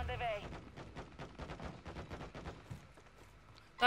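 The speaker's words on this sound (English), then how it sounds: "Friendly mortar strike on the way." A friendly mortar strike in Call of Duty Warzone lands as a rapid string of distant, thudding blasts and crackling impacts spread across several seconds, with game voice chatter faintly underneath.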